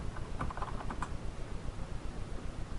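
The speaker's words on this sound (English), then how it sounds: "just jump to Google real quick and just type in the name of my website" Quick keystrokes tap on a computer keyboard, a soft, close flurry of clicks that fades to faint patter, with no talking.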